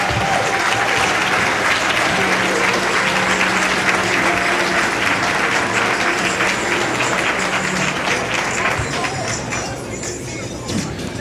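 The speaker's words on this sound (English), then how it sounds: "Let's give them one more round of applause." A large crowd applauds loudly and continuously, a dense wash of clapping that tapers off slightly near the end.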